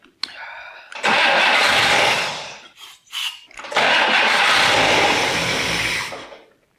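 A 1962 AMC Rambler engine cranks briefly, catches and roars to life, running loud and close for a couple of seconds, dropping out, then firing again and running steadily before cutting off.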